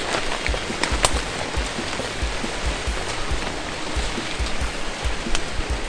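Steady rain falls in a forest, a dense, even hiss with scattered close drips and taps on leaves and surfaces. It continues without a break and without voices.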